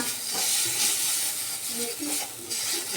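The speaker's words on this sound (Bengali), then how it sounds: "মেথি পাতা চলো এভাবে কষানো হয়ে গেছে আমার" Fenugreek leaves are stirred and sautéed in a hot pan for aloo dum, with a constant sizzling fry and scraping stirring strokes heard close up and no one talking.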